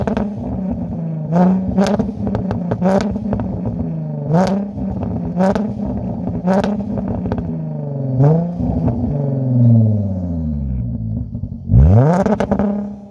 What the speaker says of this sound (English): rev an engine if you got one